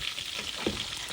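Breaded chicken nuggets coated in egg, flour and crumbs fry in a pan of oil with a soft, continuous sizzle and bubbling, close and fairly quiet, one brief louder crackle partway through, with no talk.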